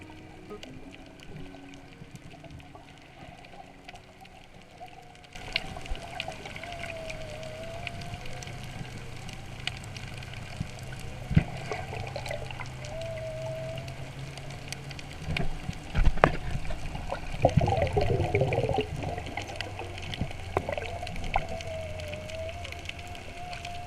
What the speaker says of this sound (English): You'll hear motorboats, but you'll also hear whales.